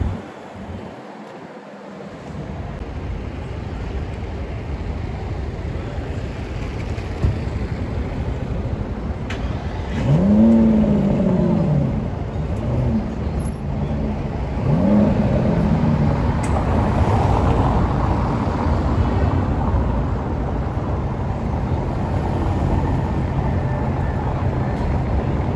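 A Ferrari California drives past on a busy Paris street, its engine note rising and falling against a steady roar of surrounding traffic, with no voices over it.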